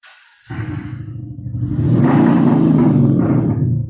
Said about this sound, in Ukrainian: Ми сьогодні встановили цей електронний вихлоп на автомобіль Audi Q5 2020 року за півдня.